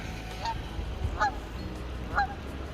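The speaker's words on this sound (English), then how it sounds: "Very loud goose." A very loud goose honks three times at roughly one-second intervals, close by, against steady outdoor background noise in Whitefish, Montana near Glacier National Park.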